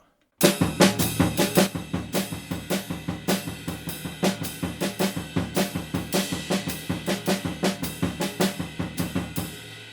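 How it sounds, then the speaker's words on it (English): Rapid drum kit pattern of syncopated triplets, with steady driving bass drum filling the triplet partials and snare hits in a rolling triplet feel, loud and continuous, no voices. "fill in all the missing triplet partials with the right foot"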